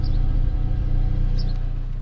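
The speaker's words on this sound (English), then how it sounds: "And with the car running, you can see it's running. You can hear it running." A car engine idles steadily in the open trunk area during a roadside alternator check, a continuous low rumble that stays loud and even throughout, with no talking.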